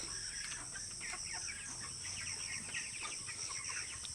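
Poultry chickens cluck softly and continuously in the background, a faint, busy chatter of overlapping calls from the flock with no talking over it.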